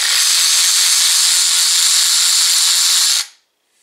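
An Avid Power 12V 3/8-inch cordless ratchet wrench, model ACRW106, runs in one loud, steady, close-up whir for about three seconds, then cuts off abruptly into silence.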